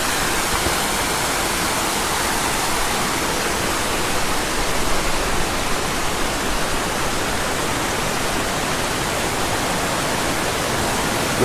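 Steady, loud rush of river water running past hot springs near Naga City in the Philippines, an unbroken broadband roar that holds level from start to finish with no voices.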